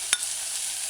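Diced scallions and onions sauté in a saucepan, a steady close hiss of frying with one quick utensil click near the start.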